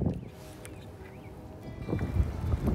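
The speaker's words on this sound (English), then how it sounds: "the wind is ferocious" Ferocious wind buffets the microphone at a lakeside fishing spot as a rainstorm hits, a low rumbling gust that swells toward the end, with no talking.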